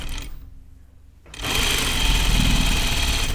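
A domestic sewing machine stitches a French seam on a skirt, a steady loud motor whir with rapid needle rattle that starts after a brief quiet pause and runs continuously to the end.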